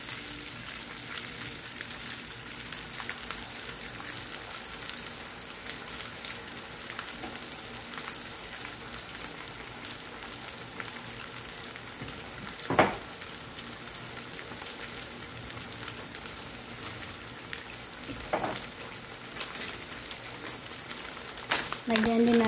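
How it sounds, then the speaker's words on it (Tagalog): Pork for adobo frying in a pan until golden brown, a continuous soft crackling sizzle throughout, with a few louder utensil knocks and a voice talking over it. "Prito-prito lang yung saglit hanggang sa okay."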